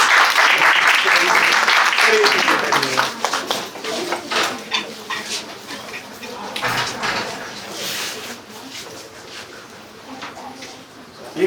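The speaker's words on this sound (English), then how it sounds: "Please give a huge round of applause." An audience at a faculty event claps loudly in welcome for a speaker, the applause strong at first and then thinning into scattered claps and murmuring voices.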